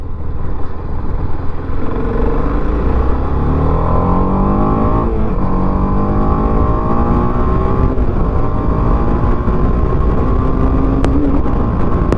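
A 2020 TVS Apache RR 310 BS6 motorcycle rides in second gear, its engine droning loud and steady from close by with rising and falling pitch as it pulls, wind noise underneath and no talk.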